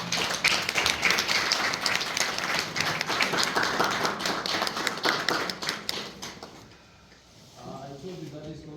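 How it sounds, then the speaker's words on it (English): Applause for panelists at a South African World Refugee Day meeting, steady crowd clapping for several seconds that dies away, then voices talking near the end. "let's just give a major round of applause to"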